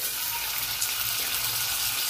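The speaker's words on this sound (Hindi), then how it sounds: "तेल थोड़ा गर्म होने दो, फिर ये फ्राई करेंगे" Wild okra (wild ladies finger) fries in hot oil, a steady dense sizzle and crackle held evenly and close for the whole short stretch.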